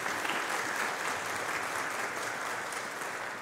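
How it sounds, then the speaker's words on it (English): A congregation at an 11am church worship service applauds its children's coaches, a steady, dense wash of many hands clapping that holds evenly throughout and fades slightly near the end. "Let's give them a round of applause."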